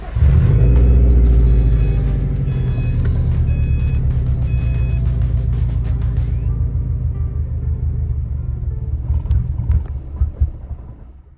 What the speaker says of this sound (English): we're gonna run the car until it stops on us